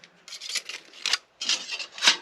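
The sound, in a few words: Milwaukee M12 nibbler cutting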